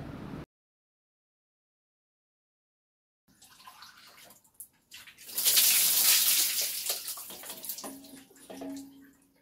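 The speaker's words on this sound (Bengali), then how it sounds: "এখন আমি এই জলগুলো দিয়ে বাবাইকে স্নান করাবো" Warmed water is poured over a child being bathed on a winter morning. After a brief sound and a long silence, close splashing and pouring build to a loud gush, then taper off. No voices.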